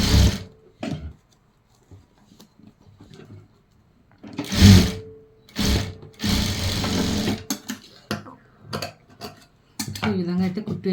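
A sewing machine stitching lace onto cloth runs in several short bursts, whirring and ticking close by, with quiet pauses and handling clicks between the runs.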